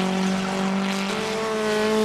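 Formula 1600 race car engine holding a loud, steady high-pitched whine with a slight pitch shift midway, close and continuous with no talking.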